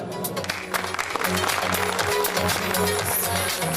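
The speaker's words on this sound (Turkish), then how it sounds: "Temennilerin ardından alkışlar eşliğinde açılış kurdelesi kesildi." Applause rings out at a store opening ribbon cutting, a steady wash of clapping from a gathered crowd, with a low hum and voices underneath throughout.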